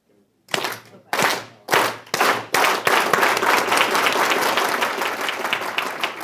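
A crowd joins in the Aplauso Campesino, the farm workers' unison clap: a few loud, evenly spaced group claps that quicken and merge into sustained, dense applause.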